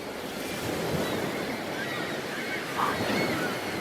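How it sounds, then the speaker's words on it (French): Steady rushing surf of ocean waves fills the clip, with a slightly louder swell near the end and some wind noise mixed in. "Mais, Papouchka, j'entends rien par le bruit des vagues"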